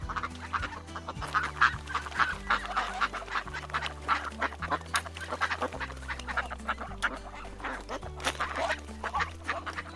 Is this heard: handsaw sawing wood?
no